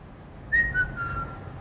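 A person whistles a short tune that glides up and down in pitch, a few clear sustained notes close to the microphone, heard alone over a quiet room.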